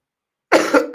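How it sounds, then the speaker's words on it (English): A single harsh, close cough bursting out after silence, loud and raspy with a second push at the end. "This flipping cough has returned."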